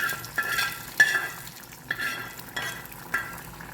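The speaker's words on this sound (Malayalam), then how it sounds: "ഇതിലേക്ക് 5-8 ചുമന്നുള്ളി അരിഞ്ഞതും വേപ്പിലയും കൂടി ഉള്ളി കാച്ചി വെളിച്ചെണ്ണയിൽ കാച്ചിയത് വെച്ച് താളിച്ചെടുക്കാം." Chopped shallots and curry leaves sputter in hot coconut oil, a steady close sizzle broken by several sharp metallic spoon scrapes and clinks against the pan, with no voices.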